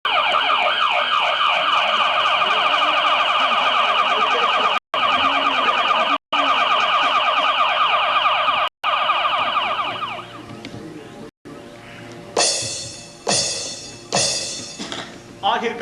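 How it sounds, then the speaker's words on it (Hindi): A loud electronic siren wails steadily in a Hindi comedy stage play, cut by a few brief dropouts over about ten seconds, then gives way to separate short rising whoops. "सायरन बजाता चल।"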